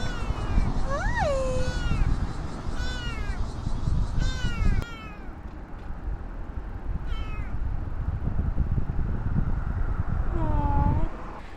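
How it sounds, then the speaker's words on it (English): A cat meows several times outdoors on a city street on a Saturday evening, close and clear, with rising and falling cries against a steady background of wind and traffic noise; people talk softly nearby. "Matt, we're going home with a cat"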